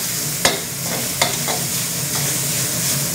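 Pork stir-fried over high heat in a wok for Thai fried rice with dark soy sauce, a loud continuous sizzle broken by a few sharp scraping strokes of the spatula, close up and with no talking.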